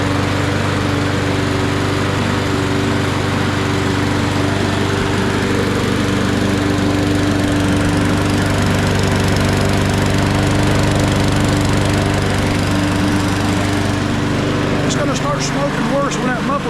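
A Toro 21-inch push mower, model 21352, runs steadily with a loud, droning engine hum close by, its tone holding even throughout before a brief change near the end.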